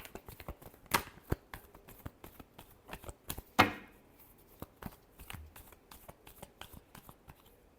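Tarot cards being shuffled make soft, close taps and flicks in an uneven rhythm, with one brief, louder riffle near the middle, in an otherwise quiet space.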